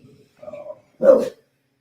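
An Irish pit bull gives a few short sounds, two small whines or grumbles followed by one sharp, loud bark, close and alone against silence.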